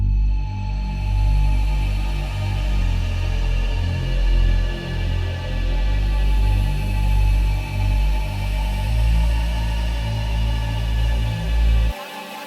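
Pluck synth melodies with chorus and bitcrusher effects in an ambient beat built from flipped grunge samples, a sustained, dense layered tone with a strong low end that plays steadily and then cuts off abruptly near the end.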